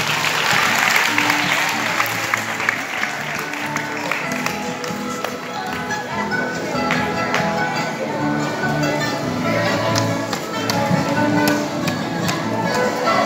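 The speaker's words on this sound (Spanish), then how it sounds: "Démosle un fuerte aplauso." At a school awards ceremony during patriotic festivities in San Francisco Libre, an audience gives sustained, close, loud applause, the clapping dense and busy throughout with a few sharper individual claps standing out.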